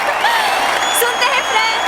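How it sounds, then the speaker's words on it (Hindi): A college audience claps at a campus event before a poem recital, making a dense, steady wash of applause with crowd murmur mixed in. "अरे तालियां क्यों नहीं बजा रहे?"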